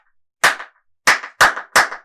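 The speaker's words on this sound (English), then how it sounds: "as our teachers clapped" Teachers clap their hands in a rhythm: one sharp clap, a pause, then three quick claps in succession, loud and close with silence between.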